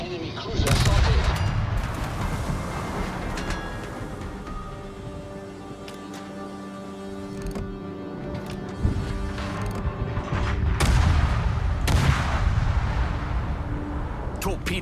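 Naval gunfire in World of Warships, with heavy cannon blasts booming near the start and again around the twelve-second mark over a constant rumble of battle noise and mechanical hum, while a voice talks intermittently.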